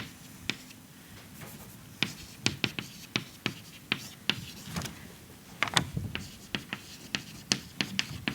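During a lecture, an equation is written out by hand on a board with quiet, irregular taps and scratching strokes. Each stroke is distinct and close, with no talking over it.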